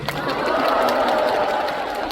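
A concert crowd at a show applauds in a steady wash of clapping and excited crowd noise, fairly loud and even across the moment.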